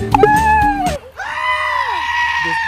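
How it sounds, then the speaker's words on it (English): A goat screams loudly in a long, wavering bleat that dips and trails off, preceded by brief clattering noise, close to the listener with no talk over it. "The screaming goat."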